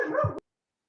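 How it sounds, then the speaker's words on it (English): A single short dog bark or yelp, fairly close and loud, cut off abruptly and followed by silence. "My dog started barking right when I was done"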